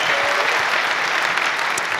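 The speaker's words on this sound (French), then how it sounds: "Jo-Wilfried Tsonga, sous vos applaudissements." Close, loud applause from a roundtable audience welcoming tennis player Jo-Wilfried Tsonga, a full, even wash of clapping throughout the short stretch.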